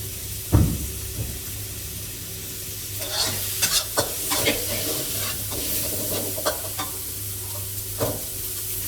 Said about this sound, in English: Stir a little more and scrape the brown egg from the bottom of the pan.